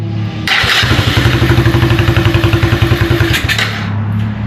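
A 125 Blazer ATV engine with its air filter off fires up after brief cranking and settles into a loud, close, rough idle with a steady fast pulse, then cuts out.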